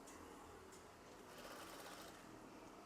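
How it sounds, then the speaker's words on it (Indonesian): A sewing machine stitching a curtain: a continuous, even mechanical whir with a steady stitching rhythm, heard close and alone with no talking. "jahit juga"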